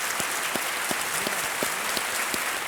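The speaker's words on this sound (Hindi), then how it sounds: "तालियों के साथ इनका स्वागत।" Studio audience applause welcoming a contestant onto a Hindi quiz show set, Kaun Banega Crorepati; steady, dense clapping that fills the whole stretch without voices.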